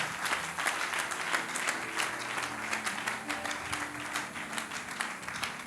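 A church congregation breaks into sustained, even applause that fills the room at moderate volume, with a voice faintly heard underneath the clapping.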